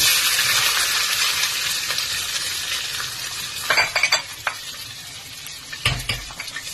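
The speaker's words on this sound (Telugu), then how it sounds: "ఇప్పుడు కట్ చేసుకున్న ఆనియన్ వేసాను" Chopped onion hitting hot oil already tempered with cumin in a South Indian sour curry, a steady broad sizzle with a few stirring clinks and scrapes of a spoon against the pan, close and without speech.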